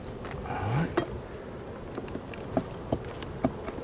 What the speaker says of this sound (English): If you shake the bees over the hive